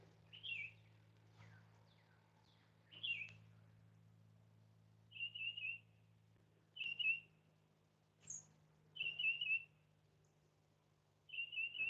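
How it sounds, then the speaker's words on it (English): Birds in Spanish moss give short bright chirping calls in scattered bursts, some in quick trilled runs, over a low steady hum in a quiet outdoor setting. "Got these birds over here playing in the Spanish moss and making all kinds of noise."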